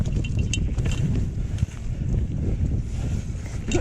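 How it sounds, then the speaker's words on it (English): Steady wind rush buffets the microphone while mountain biking at speed on a Graham Swamp trail, a continuous low roar with a brief dip midway and faint clatter above it. "because that wind, you can probably hear that wind right now"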